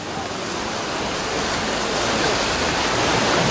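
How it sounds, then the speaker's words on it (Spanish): The Chixoy river rushing in full flow during the rainy season: a loud, steady roar of churning water with no breaks, broad and close like a waterfall. "Así se mira el río en esta época de lluvia."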